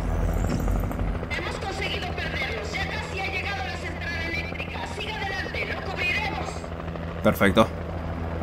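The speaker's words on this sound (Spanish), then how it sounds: "El helicóptero." A helicopter in the video game Alan Wake drones steadily with a low rotor hum throughout, under someone talking over gameplay, with a few sharp bursts near the end.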